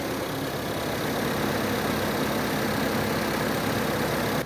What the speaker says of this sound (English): Okay, with the motor running.